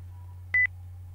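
Mobile phone ringtone in a Japanese horror visual novel: a single short electronic double-beep over a steady low hum.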